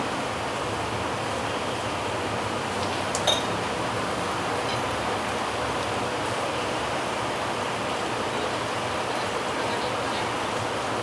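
Water drains steadily from soaked poha (flattened rice) in a kitchen, a continuous close splashing trickle that runs evenly throughout, with no talk.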